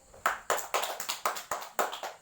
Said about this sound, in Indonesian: Nah, tepuk tangan untuk kita semuanya.